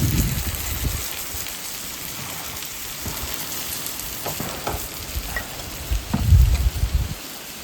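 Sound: Ayala (mackerel) fish frying on low flame

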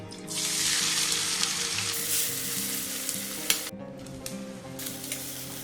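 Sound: chopped onions frying in oil with cardamom and cloves

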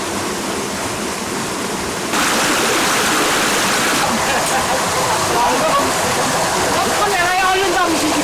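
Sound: waterfall

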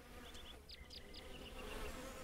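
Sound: buzzing bees in video game Lumberjack's Dynasty

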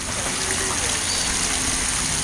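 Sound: splashing water of a public fountain

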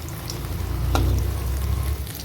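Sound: bottle gourd pakoras deep frying in oil

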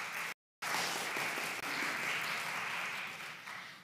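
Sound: applause

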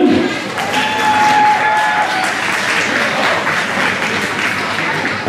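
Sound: audience applause for dance couples

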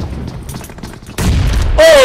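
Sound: bomb explosion on a team in BGMI video game

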